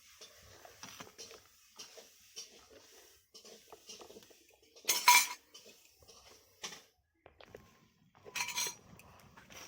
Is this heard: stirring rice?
yes